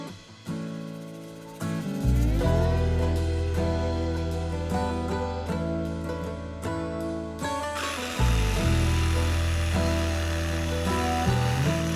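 A power tool such as an impact driver whirs in repeated bursts, loud and close, as it works bolts off a large hen coop frame, with no talking.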